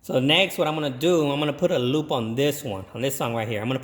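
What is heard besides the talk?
None of the usual background noises is heard.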